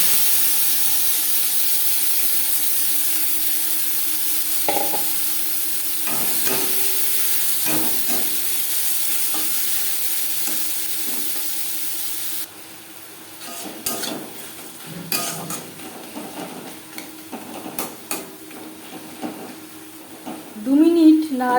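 Onion, tomato and garlic fry in oil in a wok, a steady sizzle running throughout with occasional stirring clatter, louder bursts of frying toward the end.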